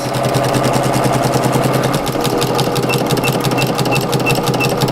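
A sewing machine stitches rag quilt pieces with a fast, steady mechanical whir and rapid needle clatter, loud and close throughout with no talking.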